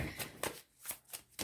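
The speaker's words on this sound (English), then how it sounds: "We're going to pull a few of my cards to see where this fits in." Tarot cards are shuffled and pulled on a table, giving four or five quick riffling swishes in a steady rhythm, close and fairly quiet.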